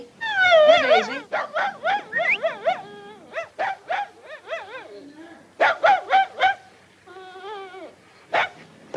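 A dog in the 1949 comedy film Blondie Hits the Jackpot gives a string of high, wavering whimpers and short yips, close and fairly loud, coming in uneven bursts with brief pauses between them.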